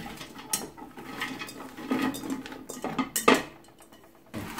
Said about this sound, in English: I'm gonna get these veggies all into this pot here